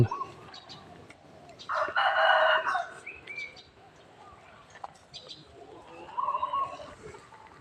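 A rooster crows once, fairly distant and moderately loud, amid quiet outdoor background at a Buddhist temple in Lampang, Thailand, with faint bird chirps and another brief call later.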